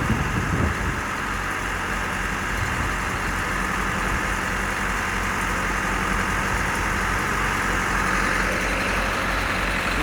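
A new concrete truck idles at a basement concrete pour, a loud, steady, low diesel rumble with a broadband roar that continues unbroken from start to finish.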